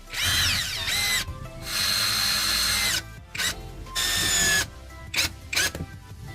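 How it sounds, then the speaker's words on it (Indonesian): Power drill driving a screw into PVC pipe in several short bursts, whining up and stopping with quiet gaps and small clicks between runs. "sekrup yang sudah kita siapkan tadi kita sekrupkan ke bagian salah satu sisi pipa pralon"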